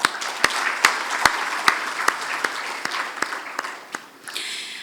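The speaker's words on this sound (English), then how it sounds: "A great round of applause for all of you." Applause from the audience at a business forum, dense clapping with distinct loud individual claps near the front, gradually thinning and tapering off toward the end.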